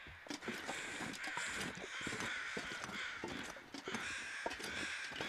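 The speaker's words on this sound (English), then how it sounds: "Okay, we've got crows straight ahead." Crows caw in the video game The Long Dark, harsh calls repeating irregularly and overlapping over a steady windy outdoor hiss, fairly close and continuous throughout.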